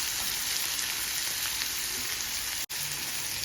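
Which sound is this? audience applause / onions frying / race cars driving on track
onions frying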